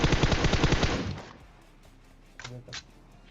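Rapid automatic gunfire in a battle royale video game shooting match, a loud fast burst lasting about a second, followed by quiet and two short softer thuds.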